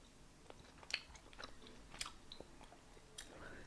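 Someone chews Korean bread-flavored bubble gum close up, producing soft, irregular wet smacks and sticky clicks over a quiet background, with a few sharper snaps spaced through the chewing.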